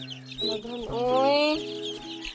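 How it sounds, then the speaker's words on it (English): Chickens cluck and chirp close by in a short burst, with a brief exclamation from a person. "Mga little chickens"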